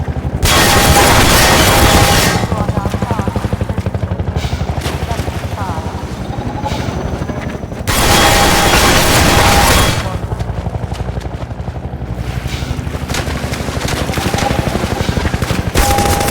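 In the Half-Life 2 video game, a helicopter fires on the player, with loud bursts of rapid machine-gun fire over a constant rotor roar and explosive booms, and a pause between volleys.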